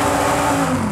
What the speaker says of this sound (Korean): 8400cc V10 달아드릴게요